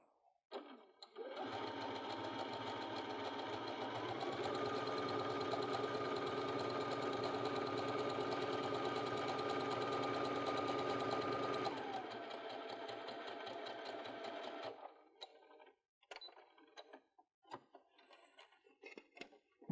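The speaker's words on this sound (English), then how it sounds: "I'm going to now stitch my second row of stitching, also close to the edge" A sewing machine stitches a second row along a fabric edge for gathering, a steady continuous whirring hum for about ten seconds, shifting pitch slightly midway, then stopping with a few faint handling clicks.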